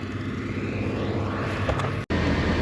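A camera drone flies over steep pasture hills on a farm, its steady propeller whine and buzz holding level and loud throughout, with one brief dropout near the end and no talking.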